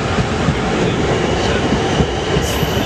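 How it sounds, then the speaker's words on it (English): A class 450 passenger train departing Guildford station rumbles steadily past at close range, a loud continuous roar of wheels and carriages with a faint high whine near the end. "And now leaving from platform 5 is the 1705 train from Haslemere to Woking."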